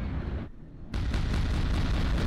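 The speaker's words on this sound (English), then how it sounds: "There's a lot of explosions going on." Loud explosions in the shooter game Quake II, a dense booming burst that drops off briefly, then a second sustained blast of rumbling noise, with no talking.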